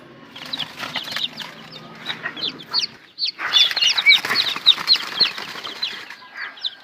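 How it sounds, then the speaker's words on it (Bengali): Sonali chicken chicks, a super hybrid breed, cluck and peep busily in a brood, with dense overlapping high calls, a brief lull partway, then louder close chirping and some wing flapping. "এই যে সেই বাচ্চা, সোনালী মুরগির বাচ্চা।"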